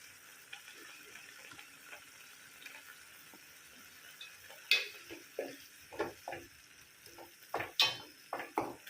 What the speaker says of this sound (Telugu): ఉల్లిపాయ ముద్ద, అల్లం పేస్ట్ కూడా పచ్చివాసన పోయే వరకు వేయించుకోవాలి.